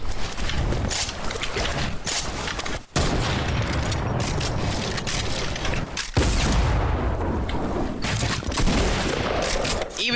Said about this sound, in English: Of course you just picked up the drum gun.